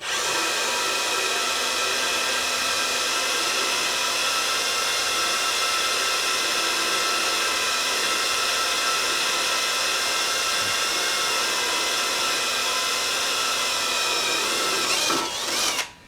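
A power drill whines steadily at high speed without pause while drilling rubber wheel wipes, close and loud, winding down abruptly at the very end.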